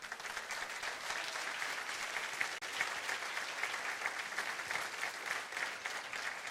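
A church congregation claps for the Lord during a Spanish-language sermon, a dense, even roar of many hands that holds steady from start to finish.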